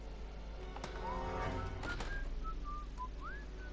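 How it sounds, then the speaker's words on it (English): Whistling in the Back to the Future video game, a few short rising and gliding whistled notes over a low steady hum, faint and alone without talk. "Oh yeah, just whistle."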